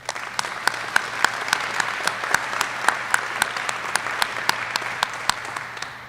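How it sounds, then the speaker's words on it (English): Applause from the audience at an Army command sergeant major's retirement ceremony, steady clapping from a sizable crowd in a hall with a few sharper claps standing out, continuing for several seconds without talk. "Round of applause."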